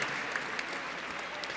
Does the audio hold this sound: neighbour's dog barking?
no